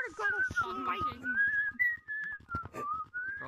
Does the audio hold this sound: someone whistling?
yes